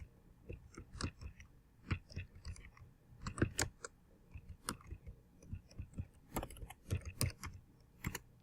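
Keys clatter on a computer keyboard in irregular bursts of soft clicks and taps as text is entered, close and fairly quiet with no talking.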